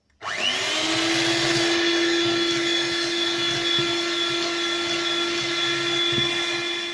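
An electric mixer whirs steadily as it beats 350 grams of caster sugar into egg yolks for a coconut cake batter, a loud continuous motor drone starting abruptly and holding throughout, with no voices.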